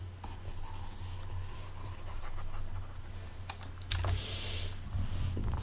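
Writing on a board is erased in a lecture setting, heard as close, scratchy rubbing strokes in short bursts over a quiet room hum, with a louder swipe near the end.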